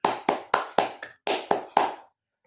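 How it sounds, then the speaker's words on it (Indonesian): A classroom of pupils claps hands in a quick rhythmic pattern of about seven sharp, loud unison claps, then falls silent. "Beri tepuk tangan dong untuk kita semua."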